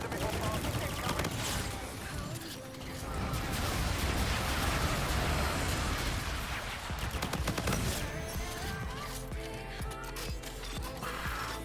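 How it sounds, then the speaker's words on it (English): Heavy gunfire and explosions from an enemy bombardment in the Infinite Warfare video game crackle in dense, overlapping bursts, loud and continuous throughout. "Enemy bombardment incoming."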